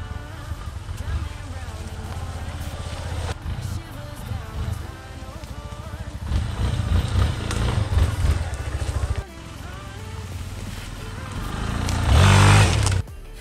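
Yamaha Tenere 250 motorcycle accelerating on a dirt trail, a loud, buzzing engine drone that rises in pitch and swells toward the end, mixed with wind rush on the microphone.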